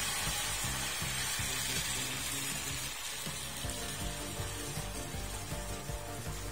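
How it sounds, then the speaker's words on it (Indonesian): Steady hissing sizzle of batter frying in a hot pan, continuous and close, with faint clinks and scraping underneath. "Jika wajan sudah dirasa cukup panas, maka kita bisa mulai menggoreng crepes."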